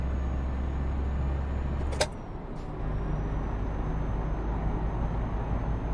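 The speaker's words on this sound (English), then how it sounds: "I'll try and get a sound mod because it doesn't sound realistic, this truck." A lorry engine drones steadily in Euro Truck Simulator 2, a low constant rumble broken by a sharp click and a short airy hiss before the engine hum resumes.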